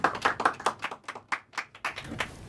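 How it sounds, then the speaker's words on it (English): An audience at a university research colloquium claps for a speaker, a short, faint burst of scattered hand claps with no voices over it. "So please give him a round of applause and welcome."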